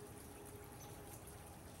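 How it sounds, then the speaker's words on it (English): Fast-running creek water, swollen higher than usual, rushing steadily through a narrow channel in a steady, close, continuous wash with no pauses. "water's a little higher than it has been, so it's running through there pretty fast"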